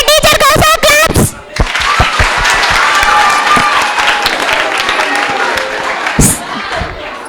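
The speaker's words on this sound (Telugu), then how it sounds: "మంచి పర్ఫార్మెన్స్ ఇచ్చిన టీచర్ కోసం క్లాప్స్." Crowd at a school farewell party applauding a teacher's performance, dense close clapping with some cheering that follows a voice at the start and rises again briefly near the end.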